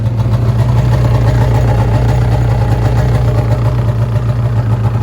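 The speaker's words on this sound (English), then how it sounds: "That's been sitting there idling now probably 4 or 5 minutes" An Arctic Cat ZR580 snowmobile engine idles steadily in the cold after a long warm-up, a close, loud, even drone with a constant low throb and no voices.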